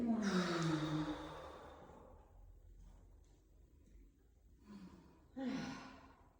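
A long breathy exhale during a yoga stretch, close and soft with a slight voiced sigh at first, followed after a pause by two shorter, quieter breaths.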